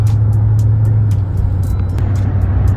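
A lifted Chevrolet Silverado truck drives along a road with a loud, steady low engine drone and road rumble, plus scattered light ticks and rattles, and no talking.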